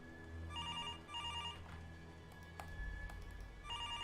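A telephone rings in a creepy horror game, repeated paired bell bursts over a low rumbling ambience, broken by a few sharp clicks and thuds, with no voices.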